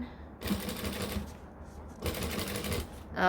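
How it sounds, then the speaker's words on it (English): A sewing machine back-stitching with a larger presser foot: two bursts of rapid mechanical stitching separated by a short pause, close and clear. "We're gonna stitch, back stitch a little bit."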